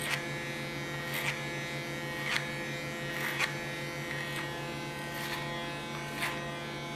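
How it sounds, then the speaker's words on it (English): An electric hair clipper hums at a steady pitch while it cuts hair close by, with brief brighter bursts every second or so as the blades pass through the hair. "Use the clipper as a comb and go in the opposite lines."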